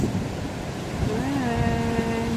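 Big ocean waves along a Hong Kong coastal trail make a loud, continuous wash of surf mixed with wind rumble, while a low tonal hum rises partway through.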